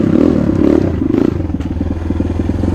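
A Kayo T2 dirt bike engine revs hard in first gear, a loud, rapid, throbbing putter that holds steady then settles into a choppier idle-like beat, close by with no talk.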